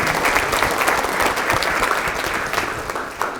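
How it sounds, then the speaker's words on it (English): An audience at a Punta Gorda State of the City address applauds, a dense round of clapping with some distinct sharp claps, loud and sustained before tapering slightly. "Give these guys a round of applause for their support"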